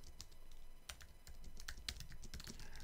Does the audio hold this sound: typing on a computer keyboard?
yes